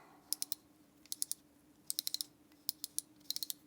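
An Osprey adjustable stainless steel safety razor gives off small, crisp metallic clicks in quick clusters of two to four as its dial is turned, close up and otherwise quiet.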